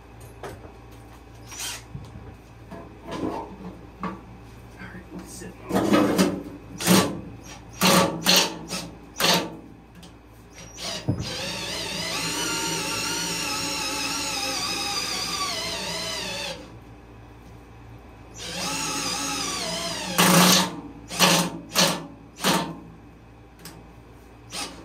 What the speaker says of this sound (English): My crappy drill can even spin them.